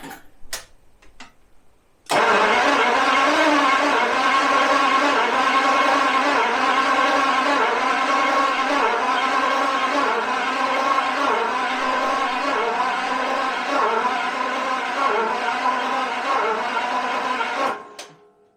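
A 1977 V12 coupe engine, unused for 42 years, cranks steadily on its starter for about fifteen seconds, a loud rhythmic churning whir that never catches, then cuts off abruptly.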